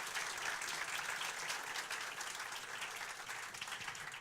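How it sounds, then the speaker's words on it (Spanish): A conference audience applauds a speaker, a faint but steady wash of many hands clapping heard from a distance with no break. "Un aplauso más fuerte para Rodrigo,"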